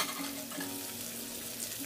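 Fish sizzling steadily in hot oil in a wok, a soft continuous crackle and hiss at low volume with no voices.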